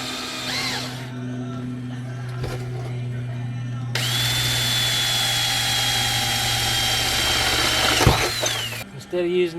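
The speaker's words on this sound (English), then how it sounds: "what I'm doing is drilling one closer in so I'm not on the edge here" A power drill bores a hole for mounting a solar panel on a Bayliner Ciera boat, a loud steady high whine of several seconds that winds down, with someone talking briefly before it and a low hum throughout.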